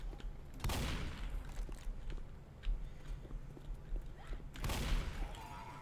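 Gunfire from a weapon in the Left 4 Dead video game: two loud bursts of shots, one near the start and one near the end, over a steady rumbling game background.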